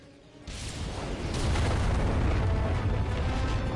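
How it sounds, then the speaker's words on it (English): An ion cannon in a Ratchet & Clank-style space battle video game fires with a sudden deep blast that swells into a long, loud rumbling roar, with no speech over it. "Launch ion cannon. Cannons ready! Fire!"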